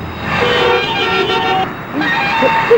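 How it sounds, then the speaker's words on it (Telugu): Car horns honk amid road traffic in a comedy film scene, with several toots and tonal blasts over a steady background of engine and street noise. "ఇదేం ట్రాఫిక్, ఇదేం రోడ్లు"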